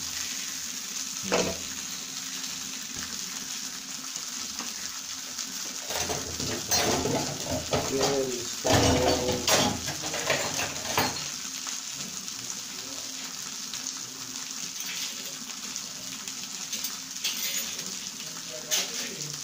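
Chicken pieces frying in a pan for burgers, a loud continuous sizzle with bursts of crackling and utensil stirring, birds chirping in the background and occasional voices.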